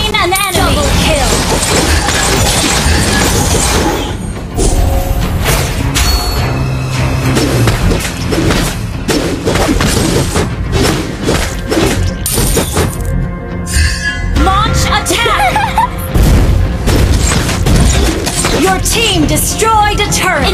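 Mobile Legends gameplay sounds play as the team destroys a turret. Crashing impacts and booms come through a dense, loud mix of skill effects and music, while announcer voices call out over the action.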